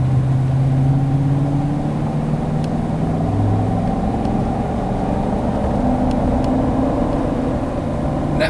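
A lifted 2011 Chevrolet Silverado LT Z71 with a Vortec V8 running, a smooth, steady low drone from inside the cab with gently shifting tones and a few faint clicks, no voices.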